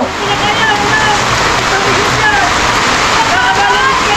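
Heavy rain pours down in a dense, unbroken roar, loud and close throughout.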